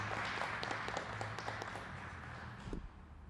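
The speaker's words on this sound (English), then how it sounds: "Let's give him a round of applause" A faint, brief round of applause at a fire department press briefing, scattered claps heard from a distance and tapering off after a couple of seconds.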